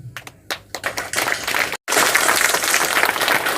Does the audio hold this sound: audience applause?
yes